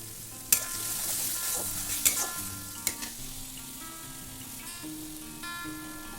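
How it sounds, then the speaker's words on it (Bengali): Spice paste for Bengali-style chana masala sizzles and fries in a wok, with repeated scraping strokes of a spoon or spatula and a few sharp clinks against the metal, close and steady with no talking. "এবার এটা আমি কড়াইতে দিয়ে দেব, দিয়ে আবারও কিছুক্ষণ কষিয়ে নেব।"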